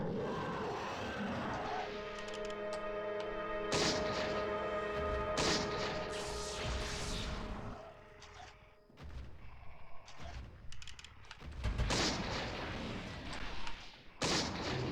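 Loud bursts of gunfire and heavy crashing impacts in the 2002 horror video game Eternal Darkness, thick with harmonic game music and clatter, pausing briefly before more scattered hits.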